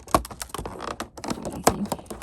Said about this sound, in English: let me cut Ravenzella out first